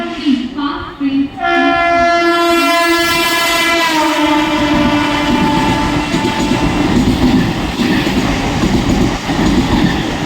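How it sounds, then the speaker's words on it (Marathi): A Mumbai local train pulls into a platform with a long, loud horn blast held for several seconds, then a continuous rolling rumble and rattle of coaches passing close by. "लोकल थोड़े ही समय में प्लेटफॉर्म क्रमांक 4 पर आ रही है."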